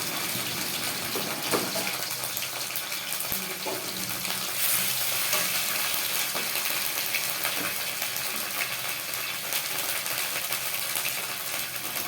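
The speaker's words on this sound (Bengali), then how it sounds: "রসুন বাটাটা একটু তেলের মধ্যে দিয়ে তারপরে দিয়ে দিচ্ছি আদা বাটা।" Garlic and ginger paste frying in hot mustard oil in a wok, giving a steady, dense sizzle and crackle with occasional stirring scrapes, close and continuous with no talking.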